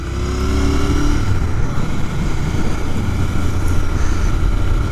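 A Royal Enfield Interceptor 650 Mk 2 motorcycle being ridden, a steady loud engine drone with wind rush throughout, a rising whine near the start, no talking.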